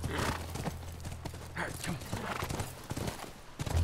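Rhythmic hoofbeats in The Last of Us video game clop along at a trot with a horse's snort or whinny, while a voice talks over them.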